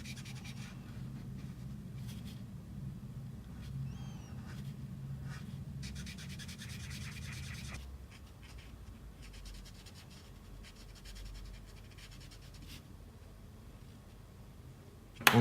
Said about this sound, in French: Pour la couleur, j'utilise un Copic couleur peau avec lequel on va colorier toute sa peau en fait.